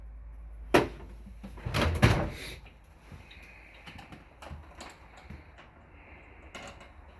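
An RV pantry cabinet door bumps and thuds open with a couple of sharp knocks, followed by quieter rattles and taps, close and fairly soft.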